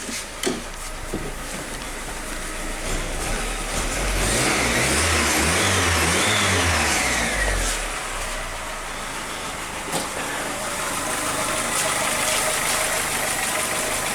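An Audi 80 engine idles steadily in a garage with the choke just pushed in, a continuous close mechanical drone that swells slightly in the middle before settling back to an even run.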